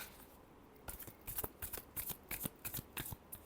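A deck of tarot cards is shuffled in a steady run of quick riffling bursts, close and fairly quiet, with no talking.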